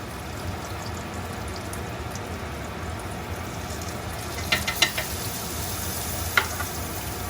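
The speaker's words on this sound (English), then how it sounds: "Now I'm going to move this garlic around, because I don't want it to burn. Move it around in that butter." Minced garlic sizzling in butter while being stirred: a steady, close frying hiss with a few soft clicks of the utensil against the pan near the end, no talking.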